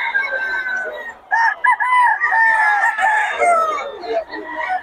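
A Boston Roundhead gamefowl rooster at a market in Bocaue crows loudly and close, one long harmonic crow broken into strained segments that fills nearly the whole stretch.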